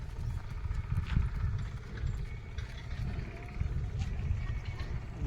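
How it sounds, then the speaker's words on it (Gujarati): Hooves of a herd of goats walking along a country road, a soft scattered clatter of many small steps nearby, steady and continuous under light background noise. "આ બધા બકરા રસ્તામાં હાલ્યા જાય છે."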